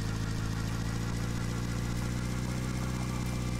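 A car engine accelerating in the driving game The Long Drive, a dense and constant engine drone with steady hum and buzz, loud and unbroken, no voices.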